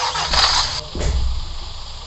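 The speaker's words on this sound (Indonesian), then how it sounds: "Oke, seperti itu ya suara mesinnya ya." Engine of a bus in the game Bus Simulator Indonesia, running with a steady mechanical hum and a deeper low rumble that swells after the first second, with no talking.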